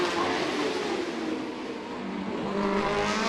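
Racing motorcycles on the opening lap of the Macau Motorcycle Grand Prix, a dense continuous engine roar from several machines at high revs, loud and close with a slight dip in the middle.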